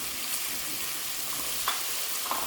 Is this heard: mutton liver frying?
yes